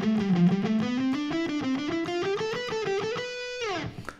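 Distorted electric guitar plays a fast whole-tone shred lick in rapid, evenly picked notes climbing steadily in pitch, then a final sustained note that slides down, loud and alone.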